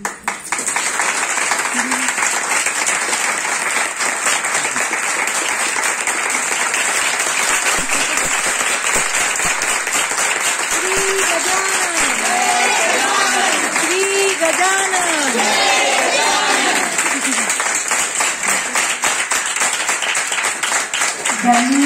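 Applause from a crowd at a Bhikshapheri gathering, a sustained dense clapping that stays loud and even for over twenty seconds, with a voice speaking over it partway through.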